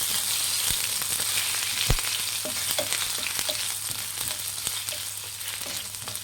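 Ginger and garlic sizzle and fry steadily in hot oil, a dense continuous crackle with occasional sharper pops and stirring clinks, close and fairly loud with no talking.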